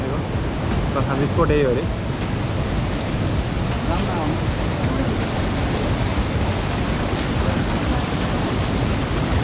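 Rushing water from a river swollen by monsoon rain and a natural waterfall roars steadily and loudly from start to finish, with a few brief voices talking over it.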